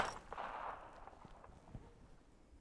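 An original FP-45 Liberator pistol fires a single faint, distant-sounding shot, a short crack followed by a quiet tail, with little else around it.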